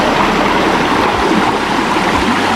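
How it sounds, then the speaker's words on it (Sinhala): A small stream flows near a temple in Badulla, a dense, steady rush and gurgle of water that is loud and close and fills the whole moment with no voices. "පොඩි ඇල් කැලක් කියන්නේ."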